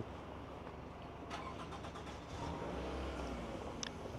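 A car drives on the road, giving a steady low engine and road rumble with soft interior clicks and rustles over it, no talking.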